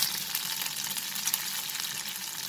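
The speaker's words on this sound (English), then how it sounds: "in this remaining ghee, I will add the cumin seeds, that is the jeera. I will add the chopped ginger and garlic" Cumin seeds with chopped ginger and garlic sizzle in hot ghee, a bright, dense crackling hiss that stays steady and close, with small pops scattered through it.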